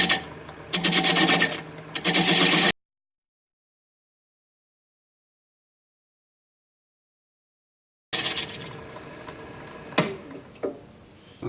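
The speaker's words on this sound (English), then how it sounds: "Grab a little 3/8 inch bowl gouge and commence to removing the tenon." A 3/8 inch bowl gouge cuts a spalted sycamore bowl spinning on a lathe at about 500 RPM, giving a steady close scraping rasp that drops to silence for several seconds before resuming with a few sharper catches.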